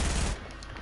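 Gunfire in a shooter video game: a loud, brief, dense burst of rapid shots that fades slightly at the end, with no talking.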